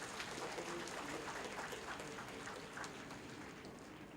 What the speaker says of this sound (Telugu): పిల్లల కోసం మీరు మంచిగా వారికి మరి ఒక్కసారి మీ చప్పట్లు కొట్టి వారిని